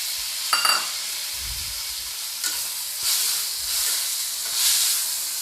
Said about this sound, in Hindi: अब मैं डाल दूंगी टमाटर।